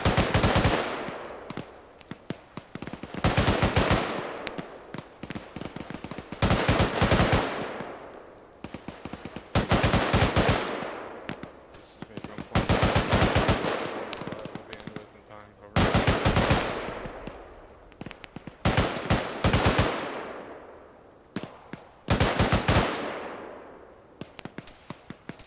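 An AGS automatic grenade launcher in a military simulation game fires repeated bursts of rapid thumping shots, each burst lasting about a second, separated by short pauses.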